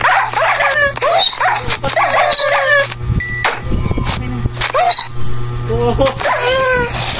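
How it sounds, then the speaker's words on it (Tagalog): A dog barks and yelps in short bursts close by, mixed with loud excited voices talking over it. "Yung aso mo, pinapatay ako!"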